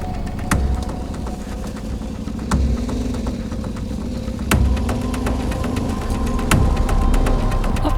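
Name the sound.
Yamaha Tenere 700 (T7) motorbike engine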